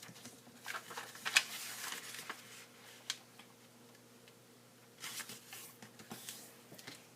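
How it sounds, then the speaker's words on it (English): Origami paper is folded by hand into a triangle both ways, with soft quiet crinkles, taps and creasing swishes in scattered bursts, close and faint. "I'm just going to fold my paper into a big triangle both ways"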